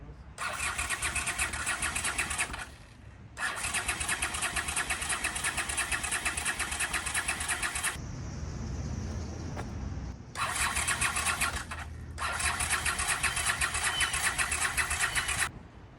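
A 1983 Honda GL650 motorcycle with a faulty fuel petcock starving the carburetor cranks over in long, loud, whirring starter bursts, broken by short pauses and a quieter stretch, without catching.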